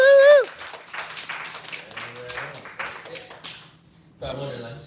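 Light applause and scattered claps from a small audience at a live comedy show in a coffee house, moderately close and uneven, with someone talking over and around the clapping.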